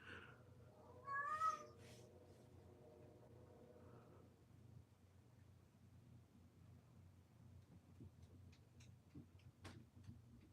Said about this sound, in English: Are you done meowing, Zoe?